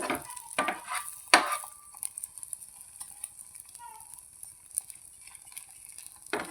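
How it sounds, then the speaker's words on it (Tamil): A carrot and egg omelette fries in a pan with a little oil, giving a soft, steady sizzle close by, with a few sharp spatula or utensil clatters near the start. "பாருங்கள் கேரட் முட்டை ஆம்லேட்டு ரெடி ஆகிட்டு இருக்குது."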